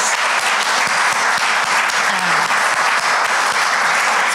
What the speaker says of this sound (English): Let's give everybody a huge round of applause.